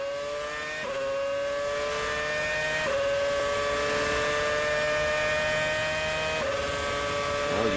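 A Formula One race car accelerates hard up a hill with a high, steadily rising engine whine, with brief gear-change dips along the way, loud and continuous.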